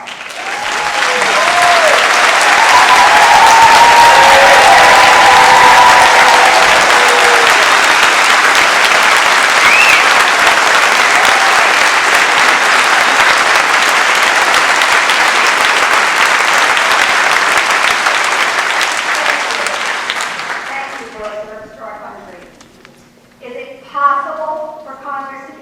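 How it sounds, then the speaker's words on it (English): Sustained audience applause at a New Jersey 3rd Congressional District town hall, honoring veterans who stand; loud, dense clapping for about twenty seconds before fading out, followed by talking. "Would all the veterans in the audience please stand up and get a round of applause?"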